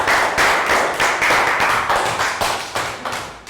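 A small class of young schoolchildren gives a round of applause in a classroom: brisk, close clapping that swells in repeated bursts and keeps going steadily for the whole stretch.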